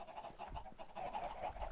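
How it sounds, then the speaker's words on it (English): Chickens in a Minecraft barn cluck in a soft, busy jumble of short calls, fairly faint and continuous, with no speech. "There's a lot of chickens in there."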